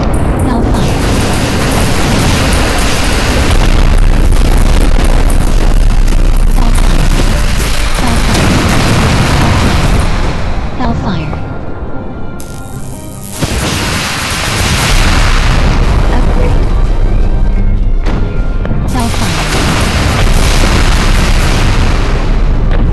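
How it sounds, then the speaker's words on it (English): A video game airstrike sets off a long run of loud, booming explosions that rumble on and on. The blasts stop for a moment near the middle, then start again. "Upgrade complete. Airstrike available."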